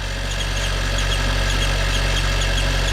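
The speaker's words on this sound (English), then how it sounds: "Engine is running, oil pressure is up" A Nissan engine idles steadily with a constant low rumble and faint mechanical whine, loud and close, no talking, running after a turbo oil line repair.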